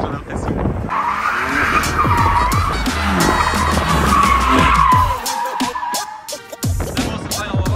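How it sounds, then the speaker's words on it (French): A BMW M2 Competition tuned to over 530 hp drifts in Morocco, tires squealing in long wavering screeches over a loud revving engine, with sharp bursts and pops as the throttle lifts near the end. "On a déjà assisté à un bon drift, les gars"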